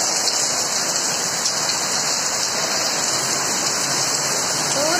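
Heavy rain pours during a hailstorm in Kolkata, a dense, unbroken hiss of water striking surfaces at steady, loud intensity, with no voices and no breaks in the downpour.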